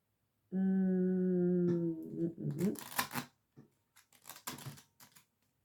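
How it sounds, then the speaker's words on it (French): A stool gives a sustained, tonal squeak lasting over a second, then fades into softer creaks, scrapes and shuffling movement close by. "C'est mon tabouret qui couine"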